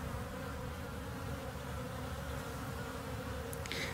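Dense, steady buzzing of a mass of honeybees in a two-frame-deep observation hive after installation, a continuous close drone with no voices and a brief brighter flutter near the end.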